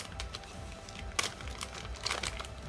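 Plastic and cardboard packaging for black-bass fishing tackle is torn open hastily, with a steady run of close crinkling, rustling and sharp cracking sounds and no talking.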